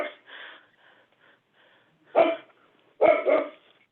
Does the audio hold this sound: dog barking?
yes